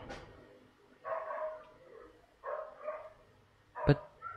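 A dog gives a few short, soft barks and yips at a distance, spaced out over a few seconds, ending with a sharper bark.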